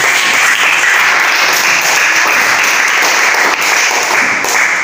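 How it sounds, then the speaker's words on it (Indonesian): A classroom audience claps steadily in thanks after a student drama performance, a continuous even patter of many hands with no speech over it. "Ucapan terima kasih kita berikan tepuk tangan."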